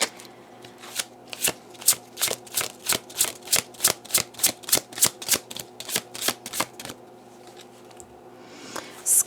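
A deck of slippery tarot-style cards is shuffled, producing a quick run of about twenty crisp riffling slaps in steady rhythm, close and loud, then a pause and a final ruffle.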